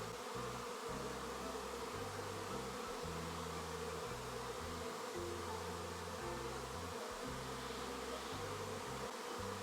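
Honey bee swarm settling on a walnut tree outdoors, a dense, steady buzzing hum of many bees with fluctuating low drones, continuous and fairly quiet, with no voices.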